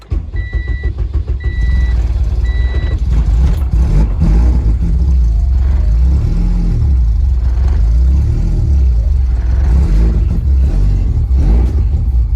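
A K-swapped car engine runs loud and steady, with a low throbbing drone and surging revs in a garage setting; a few short high beeps sound near the start.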